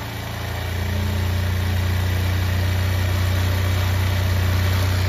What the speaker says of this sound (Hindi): इंजन की जो साउंड है RPM है वो आप सहने तक ही रखें